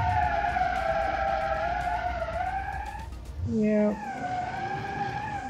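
A car in the BeamNG driving game brakes hard, its tires skidding and squealing in a short, loud burst, with steady engine drone and a brief spoken word under it.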